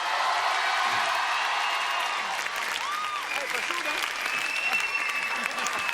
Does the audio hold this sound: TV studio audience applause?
yes